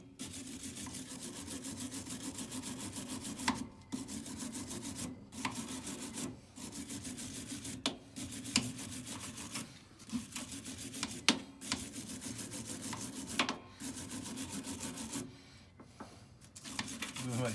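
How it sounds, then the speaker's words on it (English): A steel wire brush with a plastic handle scrubs corrosion off a tractor rim in repeated rhythmic strokes, close and raspy, with brief pauses between bursts. "See if I use the steel brush to get any corrosion removed."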